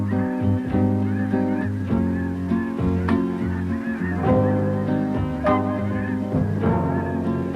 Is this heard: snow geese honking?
yes